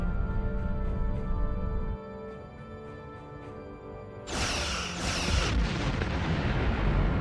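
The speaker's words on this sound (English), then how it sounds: "Target that ship, and fire all weapons!" Starship weapons fire at an Undine planet killer in Star Trek Online: a steady humming, tonal backdrop suddenly broken by a loud, broad blast, followed a moment later by a second burst that trails off into lingering rumble.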